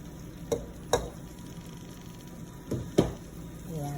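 Rice with shrimp and vegetables fries in oil under a soft steady sizzle, with a few scraping thumps from stirring spaced over a few seconds.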